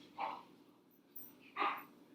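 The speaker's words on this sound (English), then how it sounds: "the dog was trying to tell you when." A dog barking twice, two short sharp barks about a second and a half apart, fairly quiet and heard alone over a faint background.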